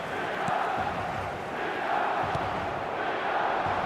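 Stadium crowd chanting during a Milan football match in eFootball, a steady dense roar with rhythmic surges running throughout, loud and continuous with no clear voices on top.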